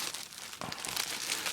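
A plastic bag wrapped around a mail-order package crinkles and crumples as it is handled up close, with continuous rustling and a few sharper crackles.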